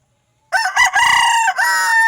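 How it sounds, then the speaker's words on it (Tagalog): A single loud crow from a young rooster bursts out nearby after a moment of silence, drawn out and strained, lasting over a second. "Mga alaga ko manok mga idol."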